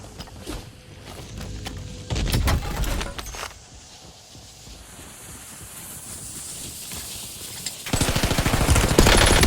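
Gunfire in Call of Duty Warzone: bursts of automatic fire and single shots crack in clusters, loud and close, with quieter ambient hiss between volleys and a final rapid burst at the end.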